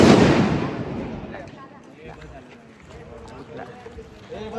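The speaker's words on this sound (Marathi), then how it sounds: "फटाके फोडताय." Firecrackers burst outdoors on a family trip: one loud, close crack right at the start that rolls off into a decaying rumble, followed by people talking over fainter background noise.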